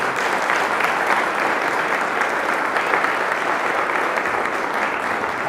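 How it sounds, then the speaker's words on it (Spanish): Sustained applause from a large church congregation, steady and dense throughout, with no pauses. "Denle un aplauso al Rey."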